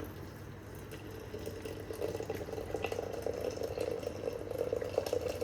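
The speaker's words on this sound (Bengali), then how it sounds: "এবার জল ঢেলে দেবো।" Hot water poured into a vessel over tea leaves and sugar gives a soft, steady liquid splashing and filling sound, faint and continuous, growing slightly fuller toward the end with no talking.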